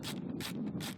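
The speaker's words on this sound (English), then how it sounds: "Make sure your ratchet is ratcheting the right way." A ratchet wrench tightens roof rail bolts, three quick, crisp clicking bursts in a steady rhythm, heard close and fairly quiet.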